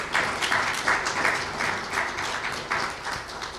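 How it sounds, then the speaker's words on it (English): Applause for law enforcement officers at a speech event held at a veterinary school, with a modest crowd clapping in uneven bursts at moderate distance, rising and falling over a few seconds. "I want to give our law enforcement a round of applause."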